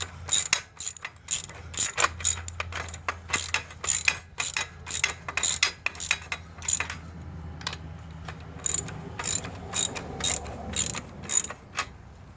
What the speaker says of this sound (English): Okay, we're just snugging these here up.